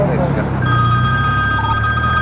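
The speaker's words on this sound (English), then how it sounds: "I'm getting a phone call." A phone rings during a police encounter: electronic ringtone tones start abruptly about half a second in and continue steadily over a low background rumble.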